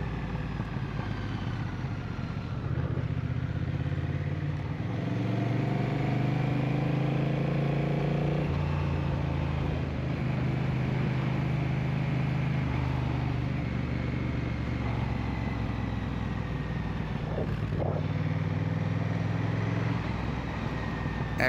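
Engine of a motorcycle being ridden on a road, a steady close drone with shifting harmonic tones as it rises and eases in pace, continuous throughout with wind rumble and no talk.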